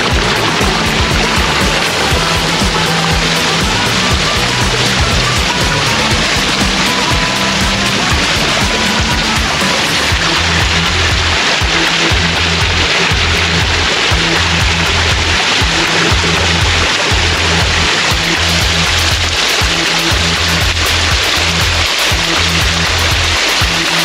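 A garden waterfall that splits into separate streams rushes and splashes without pause, a loud, steady wash of falling water heard close by with no talking.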